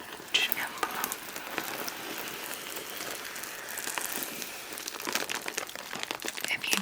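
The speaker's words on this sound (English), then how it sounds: "I'm just going to spend a few minutes making some crinkly packaging sounds with this pouch envelope." A packaging pouch envelope crinkled by hand right up close, a continuous rustling and crackling texture with sharper crisp pops scattered throughout, and no talking.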